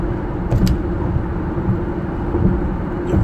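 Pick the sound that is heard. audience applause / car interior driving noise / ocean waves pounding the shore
car interior driving noise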